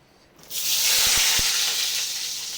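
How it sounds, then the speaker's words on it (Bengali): Pointed gourds hit hot oil in a wok with an abrupt, loud hiss that swells into steady, close-up sizzling, with a few low thumps from the pieces landing in the pan. "কড়াই তেল দিয়ে দিয়েছি আগে পটলগুলো ভেজে নেব"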